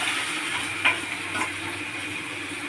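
Potato filling for Punjabi-style aloo paratha meets a hot pan, giving a steady broadband sizzle with a couple of brief louder crackles, close and continuous throughout, with no talking.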